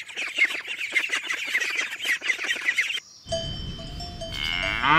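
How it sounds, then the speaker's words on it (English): Farm cattle, with a cow mooing: a busy, jangling stretch of about three seconds gives way to a sustained tonal call that holds to the end, close and clear with nobody speaking. "Cow."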